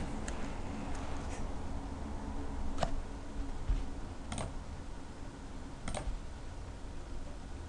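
Soft typing on a computer keyboard, quiet sparse clicks and occasional sharper key taps spread across several seconds over a low background hum.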